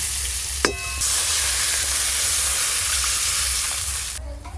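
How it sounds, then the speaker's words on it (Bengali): Water is poured into a pan of raw mango and turmeric frying in oil, bursting into a loud, steady sizzling hiss right after a brief clatter, then slowly fading near the end; nobody speaks. "কাঁচা আমগুলো একটু হালকা করে নেড়ে নিয়েছি, এবার জল দিয়ে দেব"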